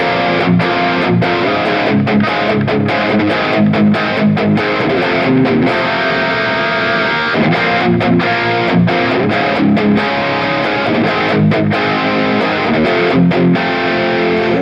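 A loud distorted electric guitar through a Mooer Prime P2 effects processor plays a steady chugging rhythm, thick and saturated with effects, continuous throughout with brief rhythmic gaps.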